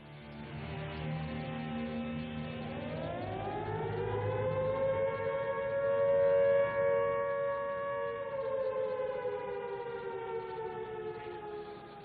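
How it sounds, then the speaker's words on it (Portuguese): A World War II air raid siren in Paris wails steadily, its pitch rising into a long sustained howl that stays loud throughout. "o som das sirenes manda os parisienses para seus porões e abrigos"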